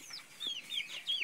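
Heat-weary farm chickens in Ghior, Manikganj, give a few short, high clucks and squawks in quick succession, fairly faint and with no talk.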